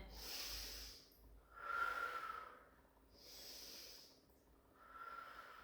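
Rhythmic, breathy exhales and inhales during a Pilates arm and shoulder exercise, fairly quiet and close, repeating in slow cycles about once every two seconds with no talk.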